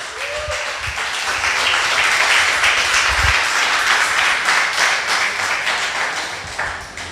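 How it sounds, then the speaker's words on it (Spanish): A large church congregation claps loudly and steadily during a sermon, dense applause sustained throughout with a few heavier thumps early on. "¿Cuántos dan un fuerte aplauso al Señor?"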